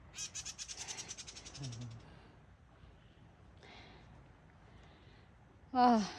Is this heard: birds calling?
yes